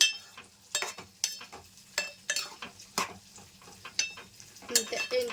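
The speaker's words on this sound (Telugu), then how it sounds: "మూత పెట్టేసి ఒక ఐదు నిమిషాలు ఉడికించుకుందాం ఒకసారి కలుపుకుందాం అండి" A spoon stirs bottle gourd and spinach curry in a cooking pot, with repeated sharp scraping and clinking strokes against the metal in an irregular rhythm, close and clear with a faint simmer underneath.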